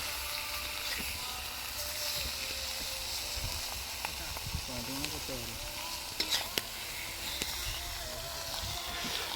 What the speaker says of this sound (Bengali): সব ছাড় গোবর খোঁতালার চিকেনগুলো একের পর এক দিয়ে দেওয়া হচ্ছে, হালকা ফ্রাই করা হবে।